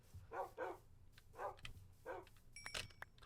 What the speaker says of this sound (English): We've got all sorts of dogs settled over here.